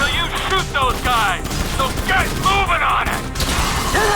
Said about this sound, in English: So you shoot those guys!